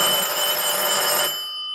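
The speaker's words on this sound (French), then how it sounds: "Ici c'est notre téléphone qui est assez marrant" A pink retro landline telephone ringing loudly and close, a continuous bright bell trill that cuts off after about a second and a quarter, leaving only a fading ring.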